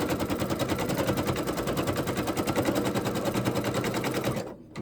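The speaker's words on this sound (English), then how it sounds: "I'm going to do an outline stitch, and it's going to show me where to put my vinyl." An embroidery machine stitches an outline on vinyl for a bicycle key fob. Rapid, even needle hammering repeats close and loud for several seconds before stopping abruptly near the end.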